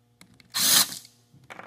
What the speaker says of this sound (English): So, quicken the process, I'll throw this onto an impact.